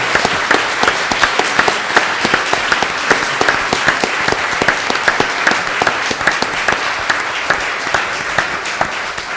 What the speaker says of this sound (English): please join me in giving this panel a great round of applause